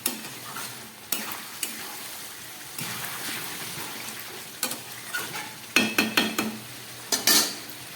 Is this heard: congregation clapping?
no